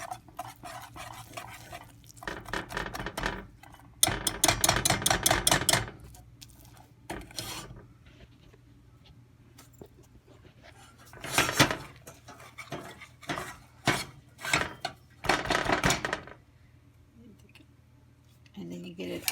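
A spoon stirs a play-dough mixture of cream of tartar and oil in a metal pot, giving bursts of scraping and clinking that come and go between pauses. Light talk can be heard underneath.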